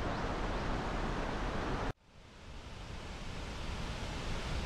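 Makahiku Falls on Maui roars as a steady broadband wash of falling water, cutting out abruptly midway and then swelling back to a constant rush.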